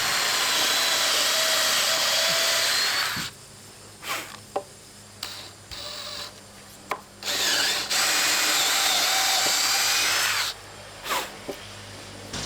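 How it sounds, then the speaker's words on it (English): A power drill boring holes through metal stair stringers outdoors, loud sustained whining bursts of drilling that stop and restart several times, with short pauses and clunks between passes. "I went ahead and marked out where all the holes are with just a Sharpie underneath, and now I'm drilling them out."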